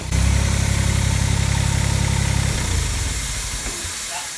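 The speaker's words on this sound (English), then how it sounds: "that hissing noise you're hearing is the Freon leaving the old unit" Freon escapes from an old rooftop air-conditioning unit as a loud, broad hiss under a low mechanical rumble. The rumble drops away after a few seconds and leaves the steady hiss fading slowly.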